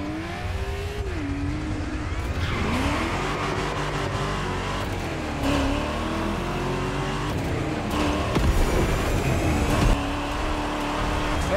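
A Porsche 911 Legacy in the racing game The Crew Motorfest, its engine revving and shifting through gears with rising and falling pitch, continuous and fairly close, with a brief tire squeal.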